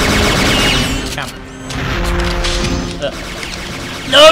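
Rocket explosions in the Perfect Dark video game, with booming blasts and gunfire crackle filling the mix, a sharp loud burst near the end, under a player's shouting voice.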